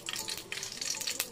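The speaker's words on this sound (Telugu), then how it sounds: "ఆయిల్ బాగా హీట్ ఎక్కిన తర్వాత తాలింపు గింజలు, మినపప్పు, పచ్చెనగపప్పు, జీలకర్ర," Tempering seeds, urad dal, chana dal and cumin crackle in hot oil, a brief burst of dense, close sizzling with sharp pops, and no talk.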